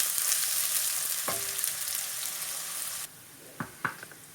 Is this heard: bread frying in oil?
yes